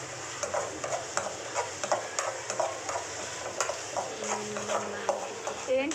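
Maggi noodles being stirred in a pan, a run of soft scraping and clicking strokes at an even, steady pace, with a faint sizzle beneath and no talking.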